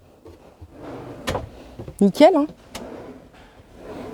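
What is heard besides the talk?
drawers of a suspended bathroom vanity unit opening and closing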